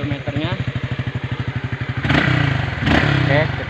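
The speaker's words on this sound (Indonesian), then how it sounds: "Saya kesini cuma ngetes motor ini aja, karena ini kan jalur sepi, aman untuk dibuat ngetes motor" A motorcycle engine thumps in a rapid, even idle-like pulse, then revs up louder during a night test ride on a quiet forest road, with someone talking over it.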